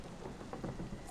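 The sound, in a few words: thunderclap with rain, sound effect in storytelling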